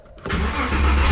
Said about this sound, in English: this time we'll start our car for reals